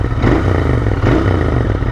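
A Royal Enfield Interceptor 650 twin-cylinder motorcycle runs close by with a rough, crackling exhaust, sputtering pops and clatter riding over a steady low rumble.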